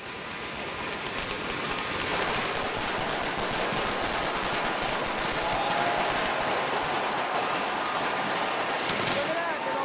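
A professional fireworks display at Copacabana, heard as a dense, continuous crackling barrage of rapid bursts that builds slightly and holds at a loud, steady level.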